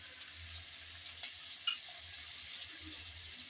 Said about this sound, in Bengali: টমেটো কুচি দিয়ে আবারও একটু নেড়েচেড়ে ভালোভাবে ভেজে নেব